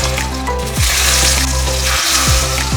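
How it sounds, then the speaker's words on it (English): Karimeen pearl-spot fish shallow frying in a pan, a loud, close, continuous sizzle with bubbling oil and brief spattering, heard on its own without speech. "You just need to shallow fry it."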